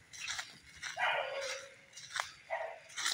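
A hunting pup bays and yips while following a track on a solo hunt, several sharp barks and one drawn-out howling note in an irregular rhythm, heard from a moderate distance outdoors.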